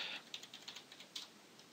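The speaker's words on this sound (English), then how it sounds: "I'm just going to log in with my username, type in password" A password is keyed on a computer keyboard at a login screen, a short run of quiet, close clicks of varying spacing, heard alone.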